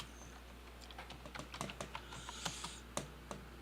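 Keys clack on an old 1995 Compaq computer keyboard, a steady run of quiet, close taps in an irregular typing rhythm over a low constant hum.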